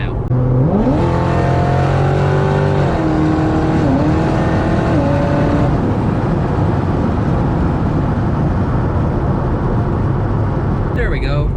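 A 700-horsepower supercharged Corvette engine revs up hard through rising gear pulls on a highway, then settles into a loud, steady roar of speed and road noise.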